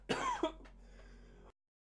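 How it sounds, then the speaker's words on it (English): Two quick harsh coughs close to the microphone from a lingering sinus infection, the second sharper, followed by a brief faint throaty rasp before silence. "Excuse me, I got a cough."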